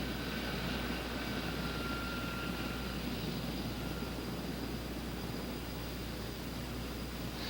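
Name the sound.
Sikorsky CH-54 heavy-lift helicopter taxiing over load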